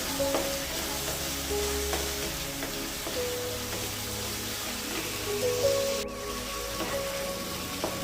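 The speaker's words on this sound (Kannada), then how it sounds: "ಇದೆಲ್ಲವನ್ನು ಹಾಕಿ ಚೆನ್ನಾಗಿ ಫ್ರೈ ಮಾಡ್ಕೊಳ್ಬೇಕು" Chopped ginger and tomato fry in a pan for a fenugreek and egg dish, producing a continuous close sizzle with occasional stirring scrapes, steady throughout.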